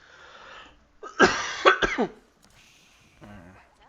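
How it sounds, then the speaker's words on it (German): A person coughs a few times in quick succession, fairly close, with a brief throat-clearing quality, surrounded by quiet background and faint sound from a strategy video game. "Ich krieg einen Husten."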